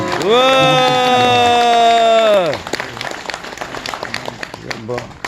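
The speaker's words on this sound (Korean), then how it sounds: "그간 노고에 대해서 뜨겁게 박수를 보내주시면" At a political party's founding ceremony, a sustained loud musical tone gives way to scattered, moderately loud audience clapping that carries on for a few seconds.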